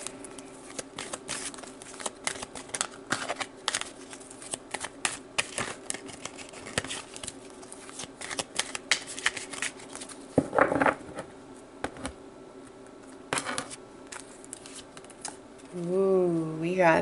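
Tarot cards are shuffled and drawn, giving a long run of soft riffling and pattering flicks with a brief louder burst partway through, and a voice starts speaking at the end.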